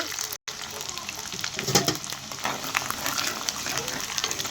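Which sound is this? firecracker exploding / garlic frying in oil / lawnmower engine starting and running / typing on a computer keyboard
garlic frying in oil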